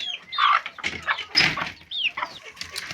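Chicks on a farm where turkeys are also kept, heard chirping and peeping in bright, rapid bursts close by. Soft clucking mixes in, with short pauses between calls and no clear talk.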